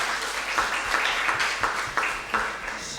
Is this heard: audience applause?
yes